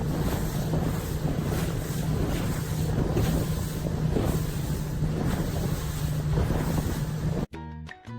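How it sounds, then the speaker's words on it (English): A professional racing sailboat moving fast over open water, with steady loud rushing of water and waves and heavy wind buffeting the microphone throughout, cut off abruptly near the end by a brief different sound. "This is what a professional racing sailboat looks like."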